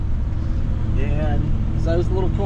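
Motorhome coach rolling along while towing a Ford Fiesta, its low engine and road rumble steady underneath as people talk inside.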